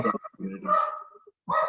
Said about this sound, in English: That's the puppy, if you can hear the puppy in the background.